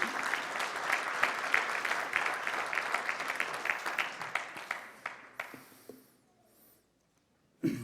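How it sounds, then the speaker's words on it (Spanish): A church congregation applauds during a Spanish-language service, a dense, lively round of clapping that thins into scattered claps and fades to near silence, followed by a brief sound at the very end. "Dale un aplauso al Señor"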